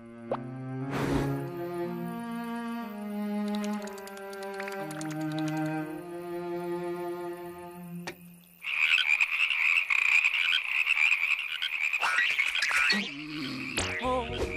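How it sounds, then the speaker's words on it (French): Frogs croak in a rising and falling chorus, then a loud, shrill, dense croaking swells and continues with a few plops, close and loud. "Oh, les grenouilles! Les grenouilles!"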